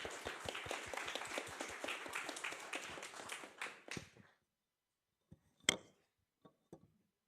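A dense burst of applause from a crowd at a university game jam for about four seconds, quickly fading out, followed by a few scattered claps and clinks in near silence.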